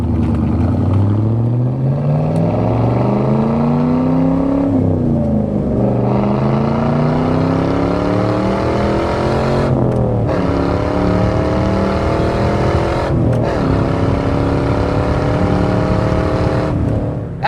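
A 1998 Pontiac WS6 with a 5.7 V8 and six-speed manual, showing about 5,000 miles, roars loudly as it accelerates, its pitch climbing through each gear with clear drops at the shifts and no talk.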